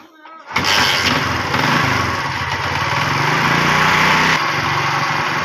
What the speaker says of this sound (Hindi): आप स्टार्ट कर जरा मोटरसाइकिल को